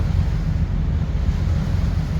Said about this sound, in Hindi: लहरें शुरू हो रही हैं आहिस्ता आहिस्ता।